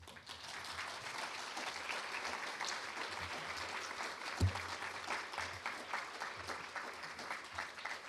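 An audience applauds after a keynote talk at a summer research academy, a steady dense clapping of many hands heard from within the room, moderately loud and sustained throughout.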